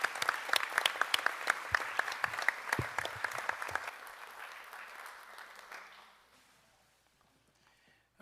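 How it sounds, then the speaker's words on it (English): Audience applause for recognised staff and students at a school district board meeting, steady dense clapping that holds for several seconds and then thins and fades to near silence at the end. "Okay, give all of them a round of applause."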